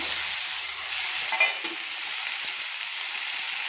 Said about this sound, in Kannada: ಇದೆಲ್ಲ ಸ್ವಲ್ಪ ಫ್ರೈ ಆಗಲಿ ಚೆನ್ನಾಗಿ